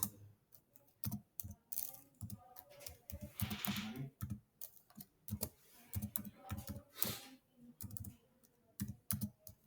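Fingers type on a computer keyboard while coding in Python, pressing control and enter, a close, quiet run of irregular key clicks and taps in bursts with short pauses, with no talking.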